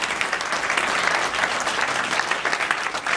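Sustained audience applause for a stage director at a theatre performance, dense and continuous throughout with steady clapping and no pauses.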